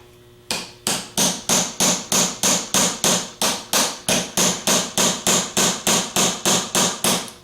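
A metal bar taps the rear bearing off a 3G alternator rotor held in a vise, giving about twenty sharp, evenly spaced metallic strikes in a steady rhythm, close and loud.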